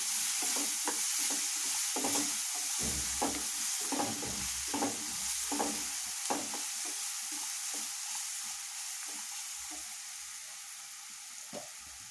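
Grated guava fries and is stirred in a pan with green chillies over a low flame, giving a steady close sizzle with repeated scraping strokes of a spoon throughout, no talking.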